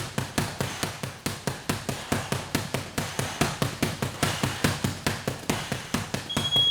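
Rapid, steady series of hook punches thudding into a heavy bag during a solo Muay Thai bag class, close and loud, around four blows per second with a brief flurry at the end.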